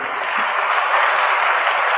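Dense, steady applause from a lecture audience welcoming a speaker before his talk, a continuous even clatter of many hands at constant loudness with no voices.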